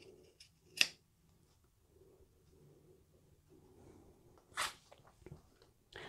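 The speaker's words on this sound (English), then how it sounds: "You can trim up this bottom edge a little bit and just to reduce a bit of bulk on the bottom if you wish." Scissors snipping the fabric edge of a sewn accordion wallet, two or three short, close cuts spaced apart against a quiet room with faint rustling.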